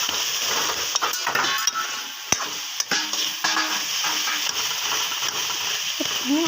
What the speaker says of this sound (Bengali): আমি হাতা দিয়ে এভাবে একটুখানি মিশিয়ে দিচ্ছি।